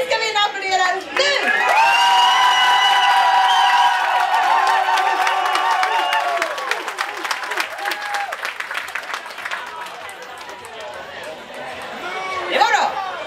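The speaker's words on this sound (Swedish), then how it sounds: "Applådera nu!" A Swedish audience applauds and cheers loudly for about ten seconds at a vinyl quiz event, with whoops over the clapping before it tapers off and a host speaks.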